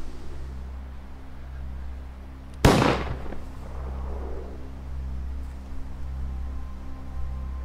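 A single sharp gunshot cracks out loudly partway through, then decays quickly over a steady low hum, with no speech.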